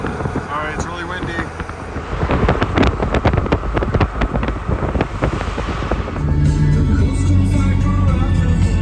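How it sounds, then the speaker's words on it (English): Strong wind buffets a microphone on a high Pacific Ocean cliffside near Ragged Point on the coast highway, a loud continuous roaring rumble with a faint voice underneath. "Sorry, it's really windy."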